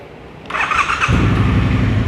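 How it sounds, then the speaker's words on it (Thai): A 2022 Triumph Bonneville T120 motorcycle on its stock exhaust starts up and settles into a steady, loud, close idle rumble with a brief higher whine at the start. "ยังคงเป็นท่อเดิมครับเดี๋ยวฟังเสียงท่อคันนี้กัน"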